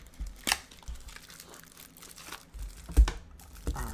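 A trading card pack wrapper is torn open and handled, making close, irregular crinkling and crackling bursts with a few sharper tearing snaps, fairly soft and without talk.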